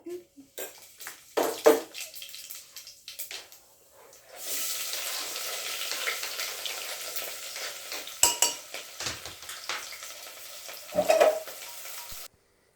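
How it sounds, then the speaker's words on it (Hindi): Tempering for sambar crackles and sizzles in a pan as spices hit hot oil, a loud steady hiss punctuated by sharp pops and stirring clatter, after a quieter stretch of kitchen handling. "अंदर पहले अपना नॉर्मल तड़का लगाती हूँ"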